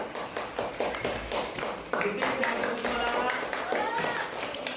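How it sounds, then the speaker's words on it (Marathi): A group of children clap together in a classroom after a paper Gandhi cap is made, with taps ringing out steadily and fairly close, and a voice talking over the clapping. "सर्वांनी टाळ्या वाजवा."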